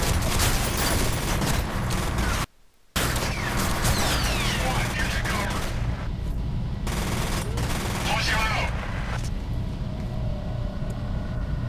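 Heavy, continuous gunfire in the shooter game F.E.A.R., with loud sustained bursts and a brief cut to silence, mixed with whooshing effects and voices.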